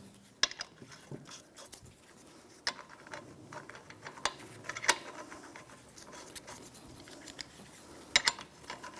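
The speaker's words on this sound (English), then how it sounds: "grab my 10mm socket, and I'm just going to tighten them up" Hand ratchet with a 10mm socket tightening lug nuts during rear coil spring replacement on a 2013-2018 Toyota RAV4, giving quiet, scattered clicking bursts and sharp taps over a low workshop background.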